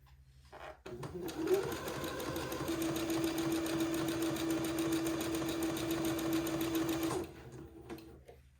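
Narrow lace is stitched onto small baby cuffs by a sewing machine that hums at an even pace for about six seconds before stopping, with quiet room sound before and after.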